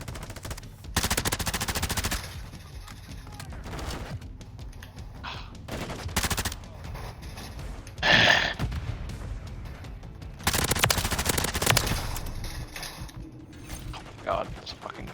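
Decoy grenade in Modern Warfare III firing bursts of fake automatic gunfire, several loud rattling volleys separated by gaps, mixed with mechanical game clatter.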